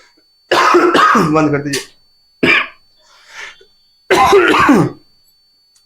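Coughing and throat clearing from a teacher in a biology class discussion, several harsh bursts close to the microphone, interleaved with short stretches of speech.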